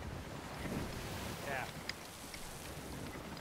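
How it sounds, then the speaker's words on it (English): Ocean waves and wind from a Sea of Thieves sailing game: a soft, steady wash of water and breezy rush at low level, with a voice briefly heard over it. "Oh, wow. The water effects are crazy."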